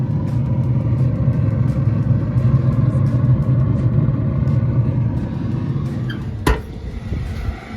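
The auger motor on a Pit Boss Pro Series 850 pellet grill feeds pellets while the grill runs on its smoke setting, making a steady low mechanical hum and rumble close by, with a single sharp knock near the end.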